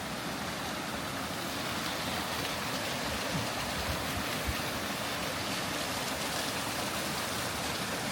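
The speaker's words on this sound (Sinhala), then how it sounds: "sound of water" A small stream of water flows through the Warburton rainforest, a steady, fairly soft rushing and gurgling wash that holds even throughout, heard alone.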